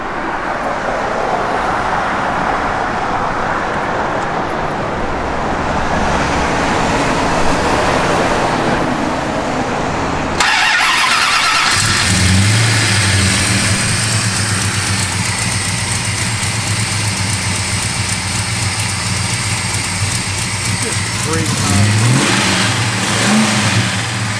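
A 1968 Plymouth Road Runner muscle car engine rumbles loudly, then cuts to a deep idle that swells into throaty revs, heard up close and continuous.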